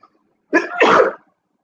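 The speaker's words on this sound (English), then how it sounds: "Sorry, y'all, that sneeze." A single close, loud sneeze from a man mid-commentary, a sharp intake followed by a forceful burst, standing alone against near silence.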